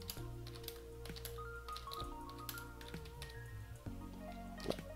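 Code being typed on a computer keyboard in VSCode, quiet irregular key clicks and taps scattered across several seconds over a low background hum, no talking.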